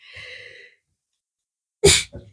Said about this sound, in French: L'éternuement, c'est un vœu exaucé.